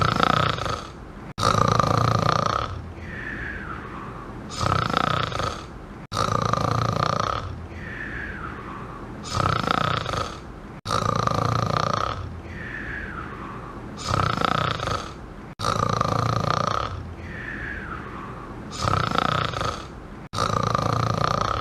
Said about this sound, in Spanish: Vamos a escuchar lo que pasan precisamente las personas en casa cuando tienen a alguien que ronca.